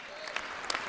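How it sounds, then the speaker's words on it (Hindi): Short burst of audience applause at a Hindi poetry gathering, fairly faint and distant, with a few sharper claps standing out near the end. "तालियां थोड़ी कम थी आपकी, और बननी चाहिए।"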